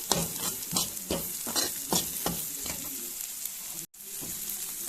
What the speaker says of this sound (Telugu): ఉప్పు కలిపేటట్టు తిప్పుకుందాం ముక్కలకి.